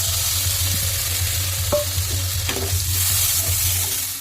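Frying potatoes dusted with cumin powder hiss and sizzle steadily in a pan as they are stirred, with a brief louder splash when water goes in, and no talking.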